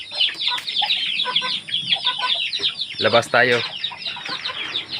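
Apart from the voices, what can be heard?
pet chickens clucking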